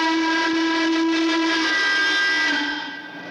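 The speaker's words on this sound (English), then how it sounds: "We'll blow the whistle for you." Steam train whistle blowing one long sustained blast with strong harmonic tones, loud and close, fading slightly toward the end, with no talking.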